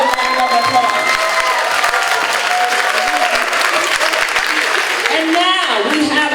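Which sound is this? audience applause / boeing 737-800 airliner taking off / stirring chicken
audience applause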